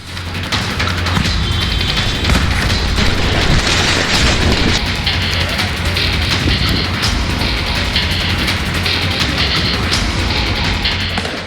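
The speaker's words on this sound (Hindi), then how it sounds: "प्रदर्शनकारी यहां खुलेआम और अंधाधुंध फायरिंग कर रही हैं।" Gunfire during riots in Paris blends into a dense, loud wall of bangs and booms. The din runs continuously with crowd-like roar and no clear pauses.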